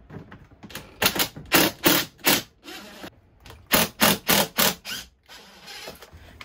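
A screwdriver works out screws on an RV fridge panel, making close, sharp clicking ratchet bursts in two quick runs with a short pause between them.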